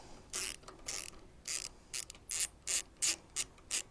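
Ratchet clicks from undoing 10mm bolts during tank removal on a 2018 Honda CB1000R, heard as a series of short, crisp ratcheting bursts in a quick uneven rhythm, close and fairly quiet.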